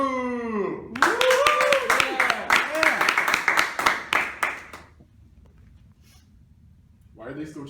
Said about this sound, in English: Why are they still cheering?